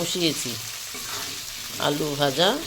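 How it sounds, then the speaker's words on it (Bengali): Potatoes frying with a bay leaf and cumin tempering give off a steady sizzle and stirring sounds, while a voice talks over them at the start and end. "আলু ভাজা"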